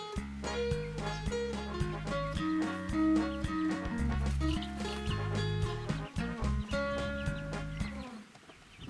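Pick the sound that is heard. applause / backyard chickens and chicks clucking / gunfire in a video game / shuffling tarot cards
backyard chickens and chicks clucking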